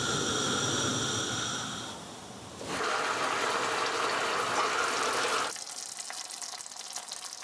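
Hot water pours into a pot of Roman-style artichokes as a steady gushing fill that swells in the middle, runs for a few seconds and then cuts off, leaving a quieter hiss close by.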